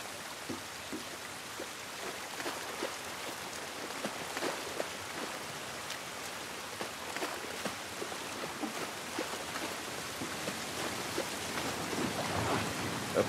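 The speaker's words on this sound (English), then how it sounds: "This rain ain't gonna do us any good." Steady rain falls outdoors in The Last of Us video game, a dense even hiss of drops that holds throughout and swells slightly toward the end, with no talk over it.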